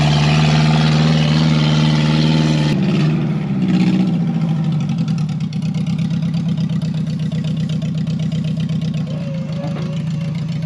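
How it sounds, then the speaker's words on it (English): A mini truck engine runs steadily at high revs on a property without a skid steer or tractor, a loud constant drone that shifts pitch briefly near the start and then holds. "Let's go, mini truck, let's go."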